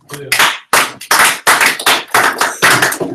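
People clap at a spring student showcase, a run of sharp, loud, close claps in uneven rhythm that lasts about three seconds.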